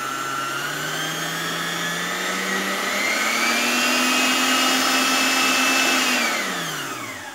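An Arno planetary stand mixer motor whirs steadily and alone, its pitch rising as the speed climbs before winding down at the end, a fairly quiet, smooth electric hum.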